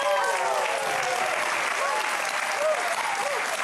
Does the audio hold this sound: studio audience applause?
yes